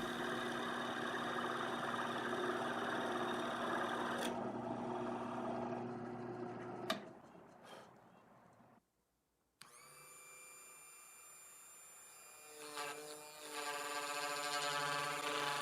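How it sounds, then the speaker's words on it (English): A precision router cutting into a thick guitar back plate for a recharger plug opening, whining steadily, dropping out to near silence, then spinning back up with a bright tonal whir. "I'm going in with my precision router and removing a whole bunch of material"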